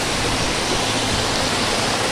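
Water rushes steadily along a rocky stream course on the trail to Visapur fort, a broadband wash that stays even and moderately close with no voices.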